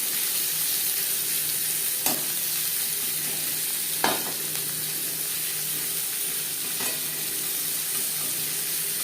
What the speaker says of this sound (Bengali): তিনটে পেঁয়াজ কুচি করে অ্যাড করব